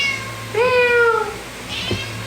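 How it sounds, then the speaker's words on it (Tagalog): A pet cat gives one loud, clear meow up close. A faint chirp follows. "Yung pusa ko may sinasabi siya pero hindi ko maintindihan."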